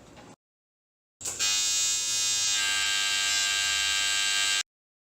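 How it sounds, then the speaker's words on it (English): A TIG welder arcs on a fabricated radiator, giving a steady, loud electric buzz that starts abruptly after a short burst, holds evenly for over three seconds, then cuts off sharply. "for doing some TIG welding today"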